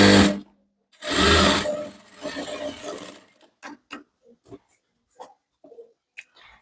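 Sewing machine stitching along the edge of a boatneck blouse: a loud whirring run early on, then quieter intermittent bursts and short stitches with pauses between.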